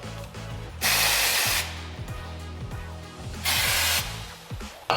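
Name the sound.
brake cleaner spray on Audi TT MK3 brakes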